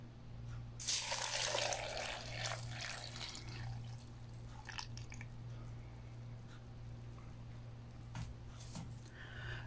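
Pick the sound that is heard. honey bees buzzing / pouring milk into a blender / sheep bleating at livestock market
pouring milk into a blender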